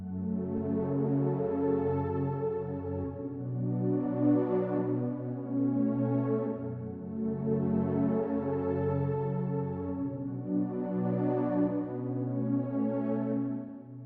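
Lush, slowly swelling synth pad chords from the Serum Pad Lush preset, playing an ambient progression with soft, breathing rises and falls in loudness, sustained and alone without any voices.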